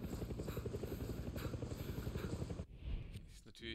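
Helicopter flying overhead in the video game Far Cry 6, near a gun emplacement: a steady, loud rotor thump and engine drone that holds for most of the moment, then drops away abruptly near the end.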